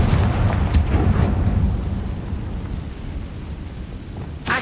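A Confringo blasting spell from Hogwarts Legacy detonates with a heavy explosive boom, its rumble decaying over several seconds before a sharper burst near the end.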